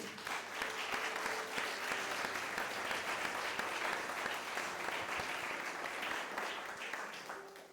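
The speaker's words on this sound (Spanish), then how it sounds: "Dele un aplauso al Señor." A church congregation applauds the Lord during a Spanish-language sermon, the clapping a steady, dense wash from many hands that holds at an even level throughout without letting up.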